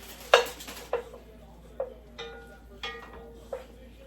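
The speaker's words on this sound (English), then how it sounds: "You just want to stir your noodles until all of your butter is incorporated" A utensil stirs buttered noodles in a pot, tapping the metal sides in about six separate clinks spaced roughly half a second apart over a quiet background.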